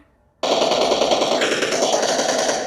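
An Uzi Pro submachine gun fires in a video game, a sudden sustained burst of rapid automatic shots lasting a couple of seconds after a brief quiet start.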